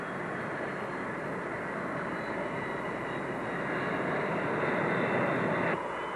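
Aircraft engines roar at full power as a carrier plane lands on a ship's deck, a loud, steady, unbroken engine drone that swells slightly toward the end.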